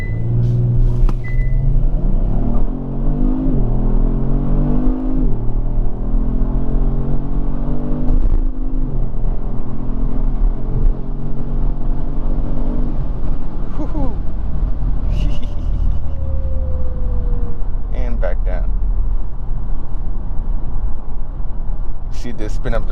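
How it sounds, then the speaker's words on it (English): A 2019 Kia Stinger GT1 rear-wheel-drive sedan does a launch-control start, its engine revving and then pulling hard through rising gears with a brief shift dip, loud and sustained from inside the cabin. "it does have launch control, which we are going to try that out real quick"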